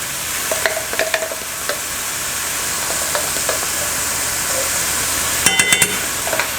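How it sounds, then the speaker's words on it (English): Garlic and mushrooms fry in a pan with a constant crackling sizzle, and a spatula scrapes and clinks against the metal in short bursts while they are stirred, close up, with no voices. "A bit of garlic in there, getting it fragrant."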